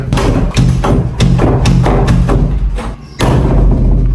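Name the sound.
banging on a stuck gate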